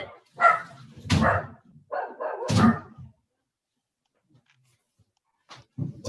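A small dog barks close by, a few sharp yaps in a quick burst, then quiet and a couple more short barks at the end, with no talk.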